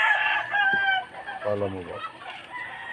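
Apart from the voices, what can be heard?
fighting roosters crowing and clucking on a farm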